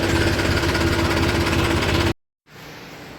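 A tractor engine runs loud and close with a dense, steady rumble and rattle, cutting off abruptly to a brief silence before a quieter, more distant engine and ambient noise resumes.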